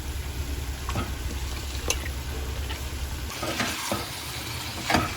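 Spicy chicken curry stirred slowly in a frying pan, with a steady low sizzle and occasional soft scraping strokes of the spoon, close and moderately loud, no voices.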